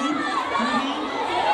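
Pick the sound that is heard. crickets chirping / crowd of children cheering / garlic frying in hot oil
crowd of children cheering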